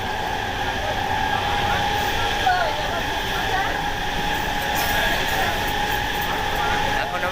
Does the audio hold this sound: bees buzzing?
no